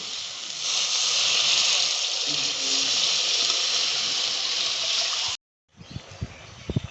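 Water poured into a pan of curry gravy for tilapia teljhal, with ground Kashmiri chilli frying in it, gives a loud continuous broad hiss and trickle for about five seconds, then a brief cut and some softer clatter.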